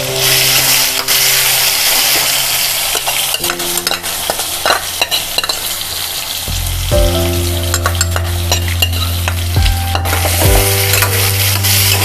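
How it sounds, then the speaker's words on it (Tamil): Pieces of Indian gooseberry (amla) are frying in oil, giving a steady loud sizzle with occasional stirring clatter. A low hum runs underneath throughout, and there is no talking. "நல்லா இந்த எண்ணெயில் வந்து ஃப்ரை ஆகட்டும்."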